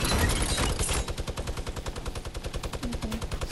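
Rapid automatic gunfire in a video game rattles off in a long, even burst of closely spaced shots while a trap gets shot down, loud and sustained for the whole stretch.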